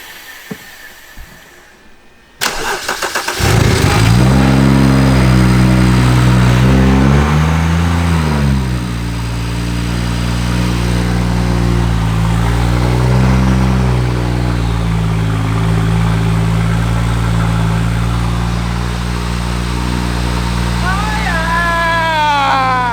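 A BMW 335i with an N55 engine and a Fuel-It Stage 4 fuel upgrade cranks and fires up, then settles into a loud, steady idle with a couple of brief revs that rise and fall, heard up close.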